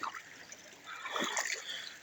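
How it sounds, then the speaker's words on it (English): Water splashing and trickling past sticks cleared from a small stream, a soft close wash that swells midway, with no talk. "I'm getting water to flow through"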